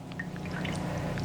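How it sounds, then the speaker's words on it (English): Vinegar pouring and trickling out through holes in a container during a kindergarten science demonstration, a steady close liquid stream with faint splashes and small drips throughout. "this one has holes in it because the vinegar is pouring out the other end"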